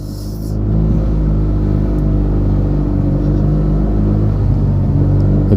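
A Yamaha TMax 560 scooter with a Termignoni exhaust and Malossi MHR variator drones loudly up close, its engine holding a steady, deep rumbling rev throughout without voices.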